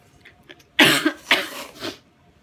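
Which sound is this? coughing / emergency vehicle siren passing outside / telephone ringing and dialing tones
coughing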